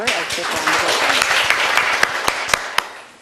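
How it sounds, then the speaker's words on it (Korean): Seminar audience applauding a welcome speaker at a Korean women's policy event on gender politics and representation, a loud sustained roar of many hands with a few sharper claps standing out as it tapers off at the end. "큰 박수 부탁드립니다."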